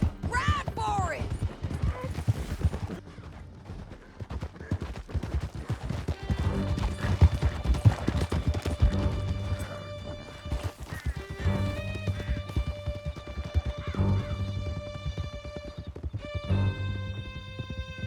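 Horses gallop hard through a canyon during an ambush in Red Dead Redemption 2, with hooves pounding in a fast, continuous rhythm under a swelling musical score, punctuated by occasional louder impacts.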